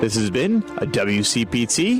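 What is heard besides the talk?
None of the usual background noises is heard.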